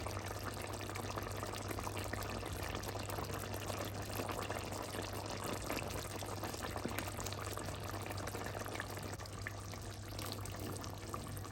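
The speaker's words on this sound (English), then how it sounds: "I added a can of green peas" A can of green peas tips into a cooking pot, a faint, steady pouring and splashing wash of liquid that runs on continuously, quiet and alone.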